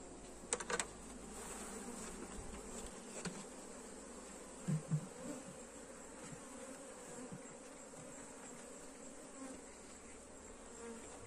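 Honeybees buzz in a steady, dense drone around an open beehive as it is closed, with a few brief clicks and knocks near the start and middle.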